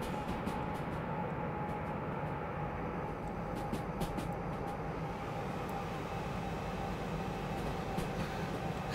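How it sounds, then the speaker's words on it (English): Derail Valley locomotive running at night with the train brake applied: a steady, loud rumbling engine drone and a sustained tone, with faint clicks and hisses scattered through the first half, and no speech. "let's put on some train brake"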